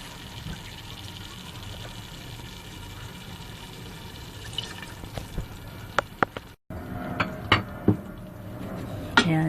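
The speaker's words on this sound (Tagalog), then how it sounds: "lalagay tayo ng konting tubig" A little water is poured into a pan while cooking Filipino-style mussel spaghetti, a steady trickling fill followed by sharp clinks and knocks of cookware and utensils.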